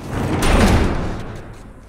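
A heavy door being barricaded in The Last of Us, with a loud, close scraping rumble like furniture dragged against it, swelling then slowly trailing off.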